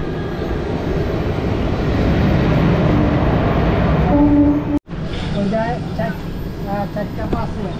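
The Kolkata–Haldibari Superfast rolls into Gumani station with a steady, heavy low rumble, a brief tonal hoot midway and a person talking over it.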